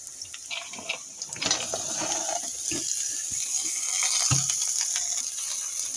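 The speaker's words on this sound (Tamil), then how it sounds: "நம்ம கட் பண்ணி வச்சுருக்க முட்டைக்கோஸை சேர்த்துக்கலாம்" Chopped cabbage for a Tamil cabbage poriyal hisses and crackles in a hot pan, with scattered sharp clatters of stirring over a continuous moderate sizzle.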